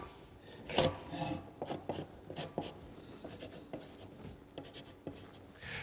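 A pencil marks the faces of timber top and bottom wall plates, giving a string of short, close scratching and tapping strokes with brief pauses between them.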